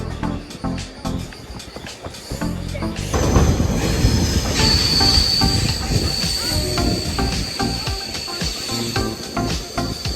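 A passenger train rumbles along the rails, with a loud, steady clatter and a high metallic squeal of wheels rising partway through and lingering.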